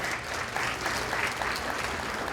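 An audience at a Haitian community partners gala claps hands in dense, sustained applause, loud and continuous throughout.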